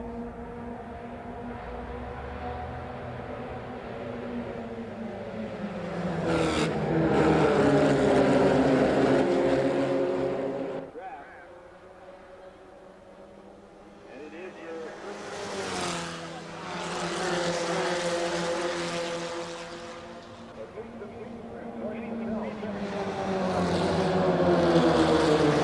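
Racing cars at the 1988 SCCA National Championship race roar past in repeated waves, engines rising to loud close passes and fading between them, with a commentator's voice under the noise at times.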